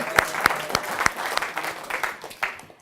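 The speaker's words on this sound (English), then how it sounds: "Round of applause for Josh, everyone." An audience at a live public-speaking event claps in a steady burst of applause, the individual claps sharp and close, fading out at the end.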